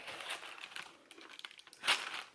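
Pink tissue paper crinkles and rustles in close, irregular bursts while a jewelry box is unboxed, ending with one louder crunch near the end.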